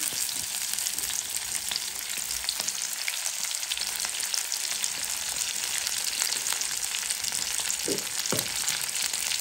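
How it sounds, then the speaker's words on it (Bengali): Onion, green chili and salt frying in a pan, a steady broad sizzle that runs the whole time with a few brief clinks of stirring near the end and no talking. "দিয়ে দেবো পেঁয়াজ, কাঁচামরিচ, লবণ"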